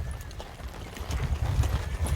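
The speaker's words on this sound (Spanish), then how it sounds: "Eso de los caballos pastoreando por ahí, como las vacas" Horse hooves clip-clop in Trinidad, Cuba: a faint, irregular patter of hoofbeats that grows louder and closer toward the end, with no talk over it.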